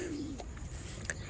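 Imported Pakistani Teddy pigeons cooing, a soft low gliding coo at the start followed by a couple of faint short clicks and flutters, close and quiet.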